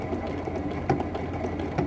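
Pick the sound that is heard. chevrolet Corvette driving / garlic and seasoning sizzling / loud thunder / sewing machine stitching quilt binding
sewing machine stitching quilt binding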